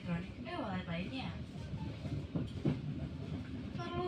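A Pandanwangi passenger train runs along the rails between Banyuwangi and Jember, with a steady rumble and a few clicks of the wheels heard from on board, under an ongoing announcement voice.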